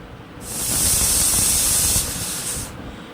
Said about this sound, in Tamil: இதை ஒரு மூணு விசில் போட்டு எடுத்துக்கோங்க